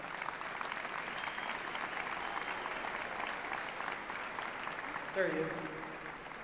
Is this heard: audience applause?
yes